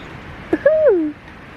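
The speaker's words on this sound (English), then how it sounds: "You hear the birds?" A single bird calls outdoors on a bright, windy day: a short soft note followed by a longer, clear cooing hoot that slides downward, fairly close and distinct over quiet background.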